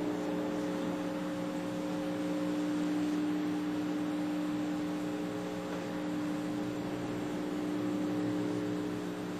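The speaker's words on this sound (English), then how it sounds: "what you're hearing is a very low hum from the amplifier unit" The amplifier unit of an audible electromagnetic field detector gives a constant low electrical hum with a faint hiss over it. It stays steady and unbroken throughout, with no talking.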